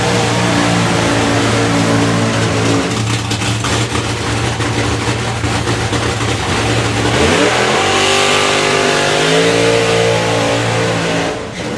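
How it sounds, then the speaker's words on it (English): A nostalgia funny car makes a drag racing pass at the FIA Euro Finals: a loud, continuous engine roar that holds steady, then climbs sharply in pitch partway through and keeps screaming to the end. "So we move on to the nostalgia funny cars."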